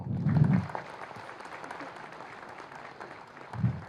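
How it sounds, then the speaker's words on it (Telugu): Audience applause for an honoree at a Telugu cultural festival event, with bursts of clapping at the start and again near the end and a lower crowd murmur in between. "ఇలాంటి ఉత్సవాన్ని ముందుకు తీసుకెళ్తున్న శ్రీనివాస్ గారికి చప్పట్లు కొడదాం."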